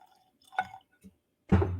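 Evan Williams 12-year bourbon is poured into a glass: a couple of soft drips and liquid taps, then a brief burst of splashing pour near the end, close and fairly quiet with no talk.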